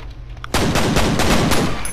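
Sustained burst of automatic gunfire in the shooter F.E.A.R., loud and close, beginning abruptly after a half-second of quieter ambience and continuing as dense rapid shots.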